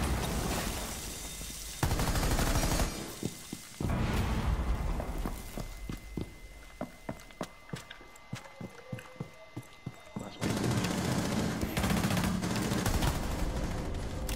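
Rapid gunfire in the video game Rainbow Six Siege, loud bursts at the start and end with a run of distinct single shots in between, close and dominant.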